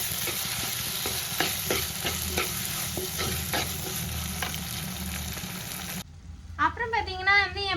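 Onion and tomato for a spicy taro curry sauté in hot oil, a steady close sizzle with scraping stirs of a spoon, cutting off abruptly near the end.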